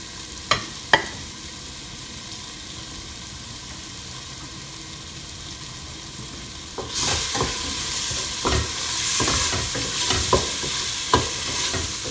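Red chili powder hitting hot oil in a pan of Malvani crab masala, a sudden loud hiss and sizzle that keeps going with scraping stirs and clinks from a utensil, preceded by a few quiet taps.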